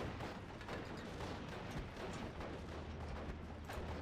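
Artillery fire in the WWII strategy game Steel Division: Normandy 44, a dense, continuous rumble of booming shots and gunfire layered throughout, loud and sustained with no clear pauses.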